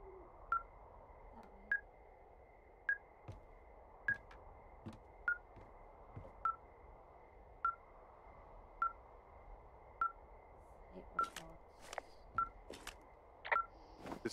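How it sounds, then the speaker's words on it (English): A radio receiver in the Firewatch video game emits a steady series of short, evenly spaced beeps, about one per second, over a low background hum, with a few sharper clicks near the end. "This receiver just picked something up. Like a signal?"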